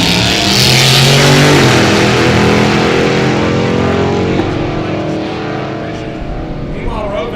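A 1967 Oldsmobile-powered drag race car makes a low 10-second pass down the strip, its roaring engine loud and rising, then fading into the distance while an announcer talks over it.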